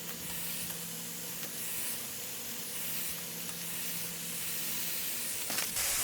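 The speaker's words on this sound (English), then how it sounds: "Sometimes with the bacon, I just actually put it on before it even gets hot." Bacon sizzling on a Weber Slate 30-inch flat-top griddle, a steady close hiss and crackle that holds evenly throughout with no voices.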